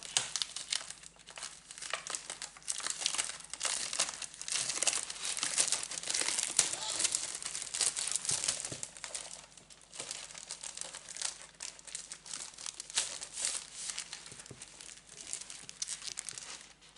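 Scrapbooking papers being handled, a continuous close crinkle and rustle of sheets shuffled and flexed, with occasional sharper crackles throughout.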